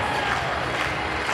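Crowd of fans at a pole vault competition in Des Moines, Iowa, giving off a steady, dense wash of clapping and cheering that holds evenly throughout without a break.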